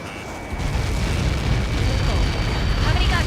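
A massive blast in the Ace Combat 7 mission Lighthouse, where Helios projectiles strike a marked impact zone after a countdown, rising into a sustained, dense roar that rumbles on steadily, with voice chatter faintly underneath.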